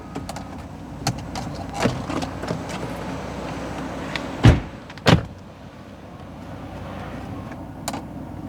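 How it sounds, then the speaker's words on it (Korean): Panoramic sunroof motor of a 2015 Porsche Macan 3.0 S diesel running, a low, steady electric whir inside the cabin, broken by two sharp clunks midway and a few light clicks. "선루프까지 이렇게 확인시켜 드리고 파노라마 선루프 작동 잘 되고 있고요"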